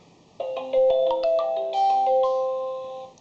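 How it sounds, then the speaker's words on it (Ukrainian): A smartphone plays a melodic ringtone for an incoming video call from a Wi-Fi baby monitor camera, a bright chiming tune of rising notes starting abruptly and ringing on clearly and close without any voices. "І на телефоні дзвінок."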